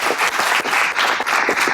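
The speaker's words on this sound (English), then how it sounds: "So Becky Clifford, let's give her a round of applause." Audience at a high school freshman and sophomore football banquet claps in a steady, dense round of applause, loud and close, with no talk over it.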